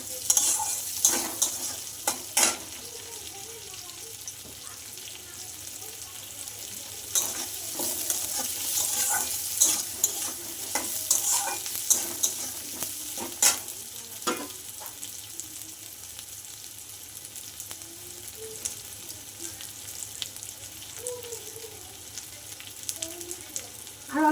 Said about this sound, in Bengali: আলুটা ভাজা হয়ে গেছে এখন আমি এর মধ্যে পেঁয়াজ দিয়ে দেবো কুচিয়ে রেখেছিলাম পেঁয়াজগুলো